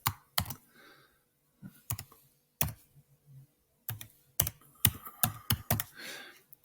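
Someone types a password on a computer keyboard, with sharp individual key clicks in irregular clusters and short pauses between them, close and fairly quiet.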